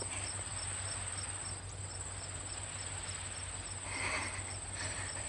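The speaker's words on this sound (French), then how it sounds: "Dis au grillon qu'il se taise." Cricket chirping steadily in a quiet indoor setting, a thin continuous high trill repeating evenly throughout with a low background hum and no voices.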